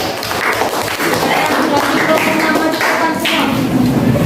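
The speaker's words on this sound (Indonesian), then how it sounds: "tepuk tangan untuk kelompok 5" Classroom applause for a student group after its presentation, dense steady clapping from many hands filling the room for a few seconds with no pause.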